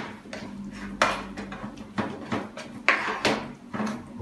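Stirring a thickening egg vanilla fishing bait mixture in a pot, with irregular metallic scrapes and clanks of the utensil against the pot over a low background hum, close and moderately loud.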